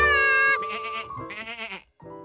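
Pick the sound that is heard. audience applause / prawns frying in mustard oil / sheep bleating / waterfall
sheep bleating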